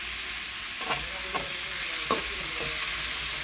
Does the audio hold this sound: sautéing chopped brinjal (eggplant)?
yes